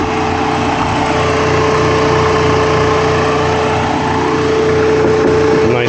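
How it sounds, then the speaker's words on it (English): A Vevor portable 3/4 HP refrigerant recovery machine runs steadily, giving a loud, constant motor drone with a sustained tonal hum and buzzing overtones, close and uninterrupted. "So we are going to just let this run. But for a budget option for a recovery machine, it's a pretty good option."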